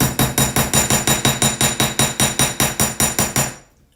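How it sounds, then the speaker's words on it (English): Rapid hammering, about fifteen sharp, evenly spaced blows in quick succession, loud and close, stopping abruptly. "So we're going to do some hammering really quickly first."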